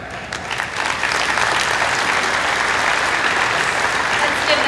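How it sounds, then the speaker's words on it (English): Sustained audience applause at a livestock show's champion sale, honoring the winning hog; dense, steady clapping from a crowd filling the whole stretch without a break. "Let's give them all a round of applause again."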